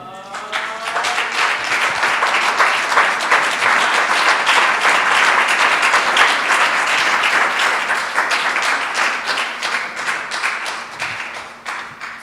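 Loud sustained applause from a church congregation at a seminar, dense rapid clapping that swells quickly and holds for over ten seconds before tapering off.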